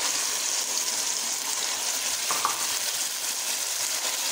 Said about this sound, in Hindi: लहसुन अदरक पेस्ट के बाद हमने इसमें अपना कीमा ऐड कर देना है।